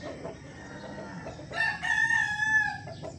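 A gamefowl rooster, an Esculin brood stag, crows once, starting partway through. The drawn-out, fairly close call sounds over faint farmyard background noise.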